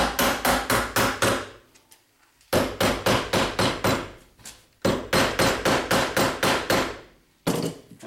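Sharp, ringing hammer blows shaping a metal rib in quick bursts of about six to eight strikes, separated by short pauses, loud and close.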